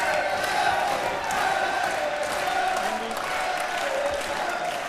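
French supporters cheering at a men's nations quarter-final of the ITSF World Cup foosball tournament, a steady crowd roar with whoops and shouts, a commentator talking over it throughout.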